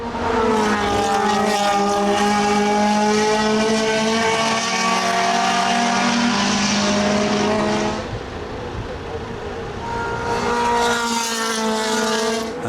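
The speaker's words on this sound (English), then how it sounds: "the lovely sound of those engines as they get up to full speed" Historic Le Mans race cars with 9,000 rpm engines scream past at full speed, loud overlapping high-pitched engine notes rising in pitch, dipping briefly, then another car roaring through up close.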